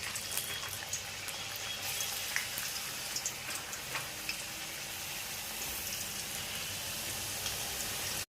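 Thin potato wafers frying in hot oil over a medium flame make a steady, dense crackling hiss with scattered sharper pops, close and constant for several seconds, no voices.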